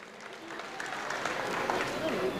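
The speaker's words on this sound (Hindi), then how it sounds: "जोरदार ताली इस बात के लिए हो जाए।" Audience at a political rally in Aligarh breaks into applause, a steady wash of clapping that swells slightly and holds throughout, with some crowd noise mixed in.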